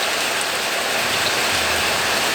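Heavy rain falling steadily outdoors, a dense, even hiss of downpour that stays constant and fairly loud throughout, with no voices.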